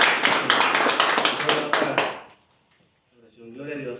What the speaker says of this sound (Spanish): Pues le damos un fuerte aplauso al Señor.